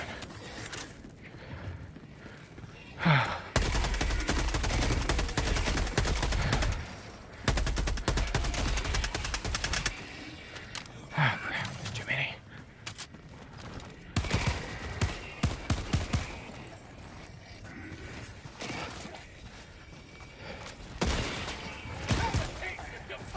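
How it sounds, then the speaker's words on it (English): In a zombie shooter game, bursts of rapid machine-gun fire run loud and sustained for several seconds at a time, broken by shorter volleys, with someone talking now and then. "Oh, good. Machine gun."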